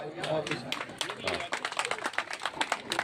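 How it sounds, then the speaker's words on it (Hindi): Applause for everyone at a joint event held by two welfare societies: a dense, steady patter of many hands clapping at moderate distance, with murmuring and chatter underneath throughout. "एक बार सभी के लिए तालियां"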